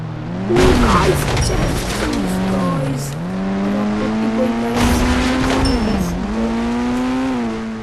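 A video game car drives at high speed of around 200, its engine note rising and falling in long, loud sweeps as the gears shift, with brief tire squeals over the revving.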